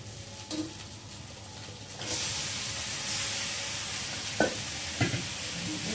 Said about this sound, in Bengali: মশলার সাথে চিকেনটা ভালো করে কষিয়ে নেবো।